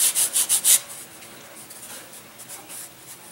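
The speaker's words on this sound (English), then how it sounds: "I'm going to sand a little bit of a flat on the bottom of the wing." Sandpaper rubbing a flat onto the underside of a small balsa catapult glider wing, a handful of quick, close scratchy strokes in the first second, then quieter faint rubbing.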